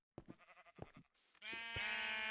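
Goat bleating in the Minecraft video game: a few short, wavering bleat-like calls, then one longer, sustained nasal bleat at the end, faint overall with no talking.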